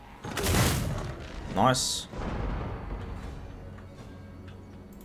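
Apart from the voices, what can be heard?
Vampire Coast units opening fire in Total War Warhammer 2 video game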